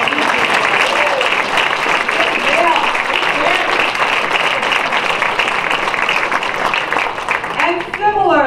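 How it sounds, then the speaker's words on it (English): Audience at a poetry festival in Florence, Oregon applauds the performers, a dense sustained wash of clapping that carries steadily from start to finish with scattered voices mixed in before it thins near the end. "So let's just applaud everyone."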